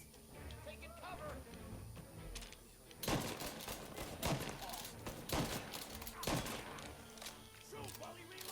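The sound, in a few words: gunfire in the video game Mafia Definitive Edition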